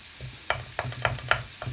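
Onions fry in a mix of olive and sunflower oil in a deep, wok-like pan: a soft steady sizzle under four or five sharp scraping stirs, with no talking.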